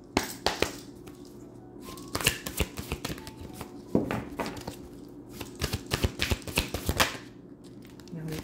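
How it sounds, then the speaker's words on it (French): Starseed oracle cards being shuffled by hand, a busy run of crisp riffling snaps and taps that is close and fairly quiet, with light speech now and then. "Je vous tire une carte du Starseed."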